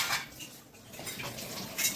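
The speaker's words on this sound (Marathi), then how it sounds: "इकडे बघा ममताचं आवरणं चालू आहे हे बघा भांडी घासते" Steel utensils and pots clink and scrape in a home kitchen as dishes are scrubbed after a meal, a close, busy run of small metallic knocks and rattles with brief louder clatters.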